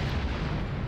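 A photon torpedo detonates in a Star Trek starship battle game as the USS Roosevelt fights a Shangri-La class ship, giving a dense, rumbling, sustained boom that fills the whole short moment with no voices.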